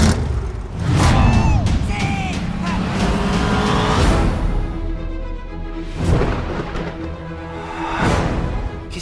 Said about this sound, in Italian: Hai scelto la station wagon?